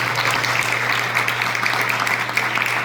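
An audience at a charity event applauds steadily, a dense continuous clatter of many hands clapping at moderate loudness with no talking.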